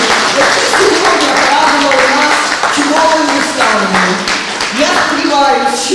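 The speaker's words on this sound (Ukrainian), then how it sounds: "Щирі аплодисменти" Applause at a community club event gives a continuous wash of clapping, with an amplified voice and music-like tones running over the top the whole time.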